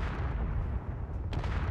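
Explosions in the space video game Space Engineers rumble as a continuous, low, booming roar with a sharp crack near the end, heavy and dense without speech.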